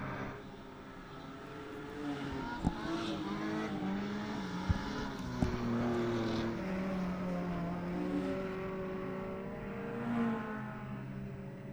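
Race cars circling the Ellesmere speedway track during a support-class race, engines whining and droning in overlapping tones that rise and fall as they pass, heard from a distance with a few sharp clacks.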